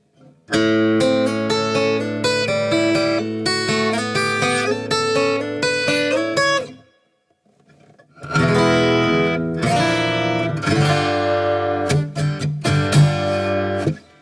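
An electric guitar plays a melodic riff with sliding notes, pausing briefly in the middle before the phrase continues, clear and alone.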